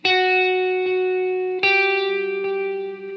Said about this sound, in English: It's just a really low reverb that's kind of warm.